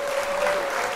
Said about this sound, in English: I got to give you a round of applause in here real quick